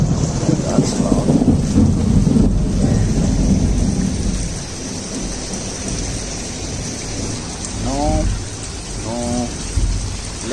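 Heavy early-morning rain pouring down with rumbling thunder, loud and constant, with a Rottweiler whining briefly near the end.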